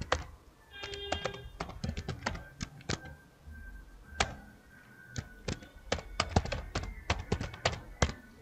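Keys clatter on a computer keyboard as an ID and password are entered, bursts of quick close taps separated by short pauses, with a brief voice in the background.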